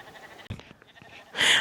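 A wild sheep bleats loudly near the end, after a sharp knock and some faint outdoor hillside sounds.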